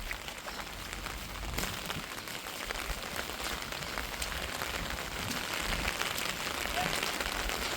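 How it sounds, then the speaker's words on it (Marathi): Heavy cloudburst rain pours down over village farm fields and vegetable plants, a loud, dense, steady hiss of drops that continues unbroken throughout. "लय पाऊस आहे बाबा सगळीकडे पाऊस"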